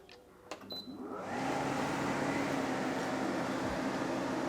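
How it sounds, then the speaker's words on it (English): An air conditioner run from a lithium battery and inverter setup switches on after a second of quiet, then settles into a steady, loud broadband whoosh of rushing air that continues to the end. "we'll go and just turn on our aircon and we'll let this test run"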